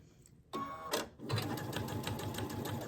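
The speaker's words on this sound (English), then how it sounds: "So now I'm going to take it to the machine and I'm going to start sewing." A sewing machine stitches a continuous fabric strip, starting after a short pause with a quick whir, then running steadily with a fast rhythmic mechanical chatter, close and fairly quiet.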